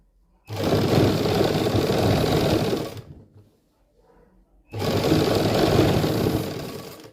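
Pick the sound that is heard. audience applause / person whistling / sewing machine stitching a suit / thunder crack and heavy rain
sewing machine stitching a suit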